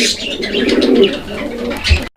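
Racer pigeons cooing in a loft, a steady run of soft, throaty coos and murmurs close by, ending in a brief gap before the calling resumes.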